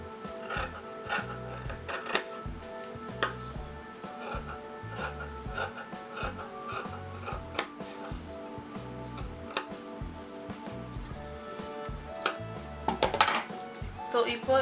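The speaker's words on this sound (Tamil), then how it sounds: "ஸோ இதை நான் கட் பண்ணி எடுத்துக்கிறேன்" Scissors cut through blouse fabric along a neckline, giving repeated crisp snips and rasping slides with faint clinks and rustling handling. Close and moderately loud, with no talking.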